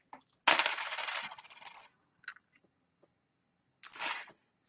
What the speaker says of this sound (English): roll the coins for the first line